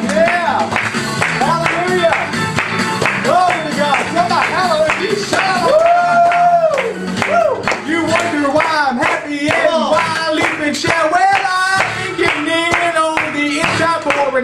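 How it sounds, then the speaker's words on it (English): A church congregation claps hands rhythmically along with loud gospel singing and instruments, the steady beat running throughout under the music. "Well, clap your hands, everybody."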